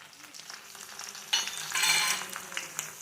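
Brinjal pieces with salt and turmeric stirred in a pan, a soft sizzle with light scraping strokes that swell into a brighter burst midway, close but fairly quiet.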